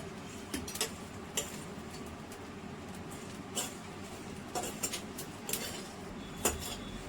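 Dried prawns being dry-roasted in a hot kadai for a Mumbai-style gravy, giving scattered light scraping and clinking taps of a spatula against the pan over a low steady background hiss, with no talking.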